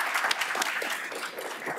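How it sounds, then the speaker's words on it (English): An audience at a school district candidates forum applauds the organizer, a dense, even round of clapping from many people, heard close and steady throughout. "Please give her a round of applause"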